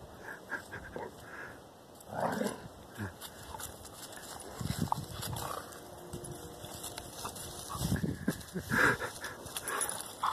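Dogs playing outside, with heavy rhythmic panting bursts and scuffling close by, mixed with rustling and brief thumps, no clear talk.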